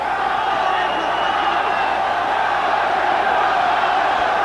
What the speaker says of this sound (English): The crowd again tries to summon up something for Chavez.